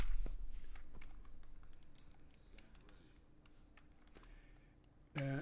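Light clicking of keys on a computer keyboard being typed on at a desk, quiet and irregular, with faint background sound throughout and a louder burst at the very end.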